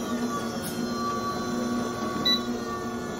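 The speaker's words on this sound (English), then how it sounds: "you can see the motor is spinning pretty slowly" An AE 10DCA 10-quart tabletop commercial mixer motor runs slowly, giving a steady, close electric whine with faint mechanical hum and no speech.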